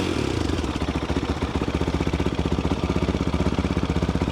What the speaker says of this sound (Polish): znacznie bardziej miękko pracuje teraz ten nowy silnik.